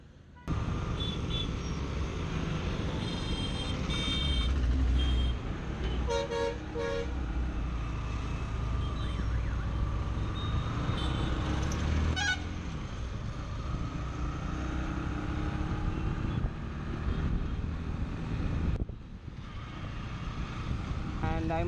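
Bajaj Pulsar NS160 motorcycle, 2017 model, out on a test ride, its engine note steady and loud throughout, mixed with wind rush and a few horn toots from passing traffic.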